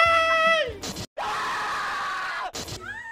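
A woman lets out a long, loud scream as rehearsal for a short film, followed by a brief gap and a second sustained shriek, close and harsh.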